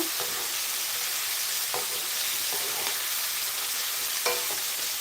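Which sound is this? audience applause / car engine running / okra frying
okra frying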